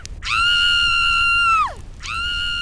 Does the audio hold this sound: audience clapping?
no